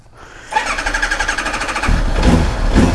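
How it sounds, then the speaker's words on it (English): A cold Kawasaki ZX9R motorcycle engine starts up and runs loud and close, with a rapid, pulsing idle that stumbles unevenly, then deepens into a heavier rumble as the revs rise. "The bike now runs without a choke."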